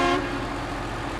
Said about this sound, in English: but when I honk the horn,